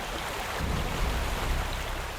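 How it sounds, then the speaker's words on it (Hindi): Steady broadband rush of falling water from a waterfall, a constant wash of noise that swells slightly midway, heard alone with no voices. "वाटरफॉल कितना सुंदर है ना पायल?"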